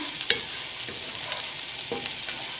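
Rice for koshari frying in fat in a pan while being stirred, a steady close sizzle broken by a few scraping turns of the spoon.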